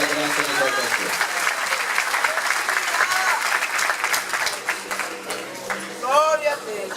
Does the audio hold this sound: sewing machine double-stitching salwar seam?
no